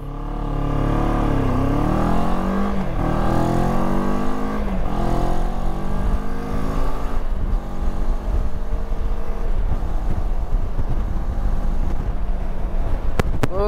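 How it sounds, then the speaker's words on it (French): A CFMOTO 700MT motorcycle accelerates hard from a standstill to 100 km/h, its loud engine rising in pitch through several gear changes and staying close and continuous with no talking. "je vous affiche la vitesse max, le couple ainsi que le 0 à 100 en haut de l'écran"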